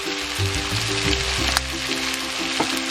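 Vegetables fry in a hot pan as a hint of sesame oil goes in, giving a close, steady sizzle and crackle with light stirring noises throughout.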